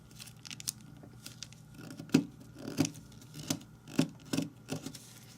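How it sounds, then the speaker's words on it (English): Origami paper being folded and creased into a Pokemon ball, with a series of sharp crinkling presses and rustles roughly every half second, close and fairly quiet, with no talking. "now let's fold this corner to this point"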